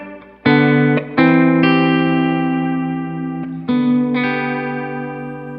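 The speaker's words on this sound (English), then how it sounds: "You can have a modulated room sound if you wanted." Electric guitar chords through a modulated room reverb ring out with a roomy reverb tail that shimmers and gently wavers as each chord decays.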